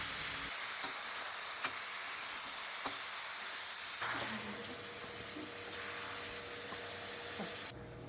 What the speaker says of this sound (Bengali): এখন ঝিঙে ও বেগুনগুলো দিয়ে দিচ্ছি লবণ ও হলুদ। এবারে এগুলোকে হালকা ভেজে নামিয়ে নিলাম।